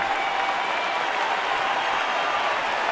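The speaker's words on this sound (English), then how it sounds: "a big round of applause is going to be given to Mark Buehrle" A ballpark crowd at a Tigers–White Sox baseball game applauds pitcher Mark Buehrle after his perfect game and no-hitter end, a steady wash of clapping and crowd noise throughout without a break.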